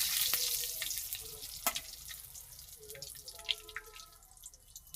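Bay leaves and dried chillies sizzling in hot oil in a pan, with a close hiss that fades gradually and is broken by sharp crackles and scattered pops.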